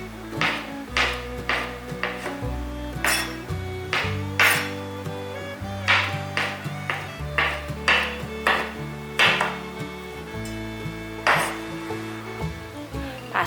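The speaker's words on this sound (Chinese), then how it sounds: "香菇角的部分也切成条状。" A knife chops through shiitake mushroom stems on a board in a series of sharp, distinct knocks at an irregular pace, some with a faint ringing clink, with no voices.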